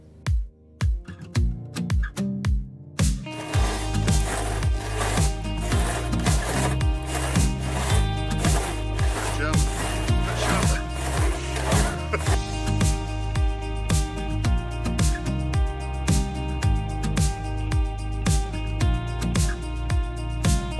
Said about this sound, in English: cut some timber like they used to, with some cross-cut saws and a bit of muscle